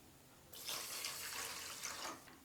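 Water pours steadily from a cup into a pan for wheat halwa sugar syrup, a close, splashing stream that starts abruptly and runs for about two seconds before trailing off.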